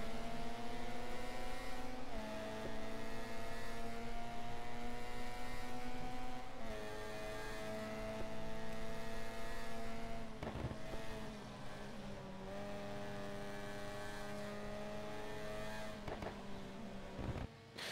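Racing car engines in the video game GT Legends, including a Toyota Corolla, a steady loud engine drone with rising pitch through each gear and brief shift drops, other cars' engines layered underneath.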